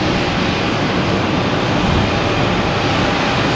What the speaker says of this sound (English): It's American Airlines, the 737. Just came in from Chicago.